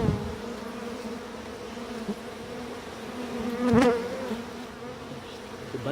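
Bees buzzing steadily inside a hive box in Yaguarón, Paraguay, a close, even drone that swells briefly in the middle, with no talking.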